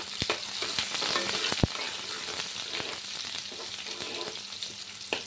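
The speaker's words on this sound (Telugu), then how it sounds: "ఇదిగోండి ఉల్లిపాయలు వేసాను, వేగుతూ ఉంది." Chopped onions fry in a pan for a Telugu chukkudikai (broad bean) fry, with a steady close sizzle and a few sharp pops and crackles throughout, no voices.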